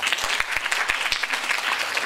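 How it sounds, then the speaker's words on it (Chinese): An audience at a Chinese speech competition applauds after a speech ends, with loud, brisk clapping that runs without a break and a few strong beats punching through. "让我们为自己鼓掌，给自己一个最响亮的掌声。"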